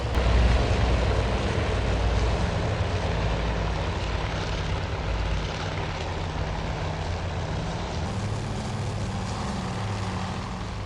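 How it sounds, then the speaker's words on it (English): A Grumman Wildcat fighter in the naval game Task Force Admiral takes off with a loud, steady propeller engine drone. The roar stays close and constant throughout. "And we begin our takeoff. Tremendous machines."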